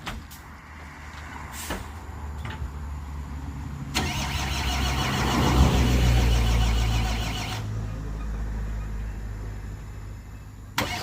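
An old car driven by a village driver is cranked on a steep hill road at Bukit Kodok, its starter grinding for several seconds in a loud low churn that never catches, with engine idle-like rumble around it.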